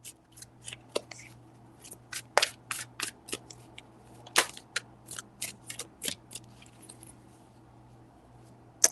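Tarot cards shuffled by hand in three rounds, a run of crisp, quick riffling snaps and flicks close to the mic, with a steady low hum underneath and no talking.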